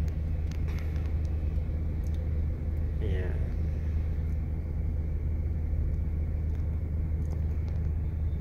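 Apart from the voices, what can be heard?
car stuck in heavy traffic on Makati Avenue, Makati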